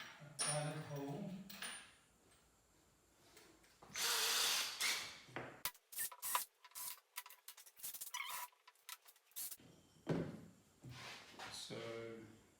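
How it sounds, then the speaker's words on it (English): A power drill bores a small pilot hole into a wooden dowel, whirring in a couple of short bursts between quieter handling noises and brief talk. "I'm going to drill a pilot hole"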